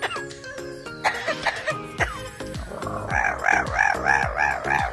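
A pet parrot imitates human coughing in a run of close, hoarse coughs, followed by rhythmic clucking, crowing-like calls.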